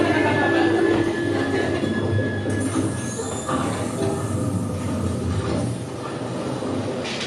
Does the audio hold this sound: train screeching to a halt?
yes